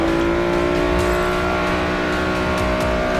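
Car engine in a Roblox racing game, a loud, constant high-revving drone at top speed that holds steady throughout with no talk over it.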